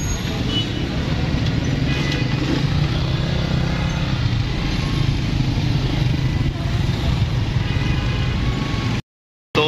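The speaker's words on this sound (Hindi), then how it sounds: "अब रोड पर हुआ है एक्सीडेंट जिसकी वजह से ट्रैफिक हो गई है जाम" Road traffic jammed after an accident, with motorcycles and cars, a dense continuous engine rumble that stays loud and close throughout, broken only by a brief silent gap near the end.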